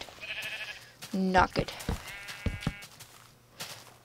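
A sheep bleats in Minecraft, short wavering cries heard close by among clicks and game sounds while someone talks over them.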